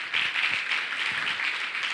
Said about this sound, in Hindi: समझ रहे हैं तो ताली बजा देंगे।